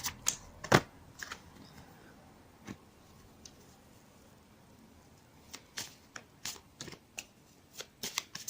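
Tarot cards are shuffled and drawn in a quiet room: scattered crisp riffles and slaps, with one sharp card snap early on and a quicker run of flicks toward the end.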